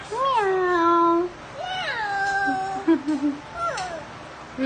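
Meows from a cat, several drawn-out rising and falling cries in a row, close and fairly loud; they could be a person imitating a cat.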